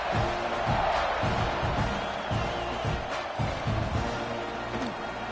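Stadium crowd noise from an NCAA 26 college football video game, a steady roar with rhythmic chanting pulses and swells of cheering during a kickoff, filling the whole clip with no talk over it.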